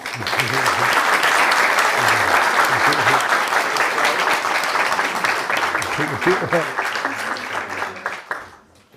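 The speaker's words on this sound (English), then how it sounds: "Please help me to welcome him with a round of applause." An audience at an architecture lecture gives a full, sustained round of applause to welcome the speaker, dense steady clapping that carries on for several seconds before fading out at the end.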